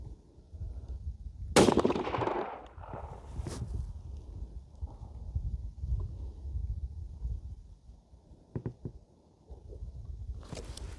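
A rifle being sighted in on an outdoor range fires one loud, close shot, followed by a rumbling echo and steady wind noise over the microphone.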